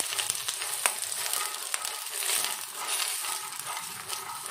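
Makhana (fox nuts) roasting in ghee in a pan over a medium-low gas flame, a steady sizzle and crackle with occasional scraping and stirring clicks, close and continuous.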